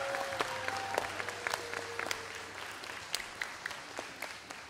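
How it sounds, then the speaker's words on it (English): Applause from a school pageant audience honoring families, a steady faint patter of many hands with sharper individual claps poking through, fairly distant in a large room. "let's give our families another round of applause"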